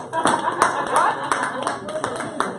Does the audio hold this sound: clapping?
yes